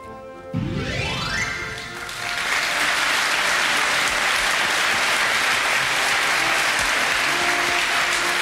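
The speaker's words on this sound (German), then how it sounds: "Sie können gleich nochmal klatschen." A TV game-show studio audience applauds, a rising musical sting giving way to loud, sustained clapping that fills the room steadily to the end.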